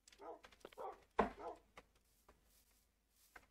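Tamed dogs in the Minecraft video game give short soft barks and yips, several brief calls spread over a few seconds, fairly quiet and heard alone.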